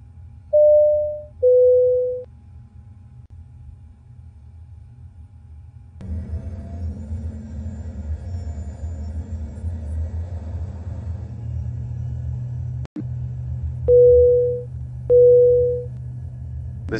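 An airliner's engines build from a low cabin rumble into a loud, steady takeoff roar that lasts to the end. Two-tone cabin chimes ring near the start and again near the end, and a short sharp click cuts through midway.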